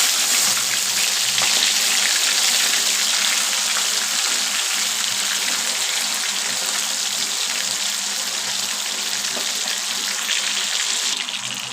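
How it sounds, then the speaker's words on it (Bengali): Fish sizzles and spits steadily in a hot frying pan, a dense, close crackle that holds at an even level throughout with no voices. "মাছগুলো ছেড়ে দিলাম। এবার মাছগুলো উল্টে দিলাম।"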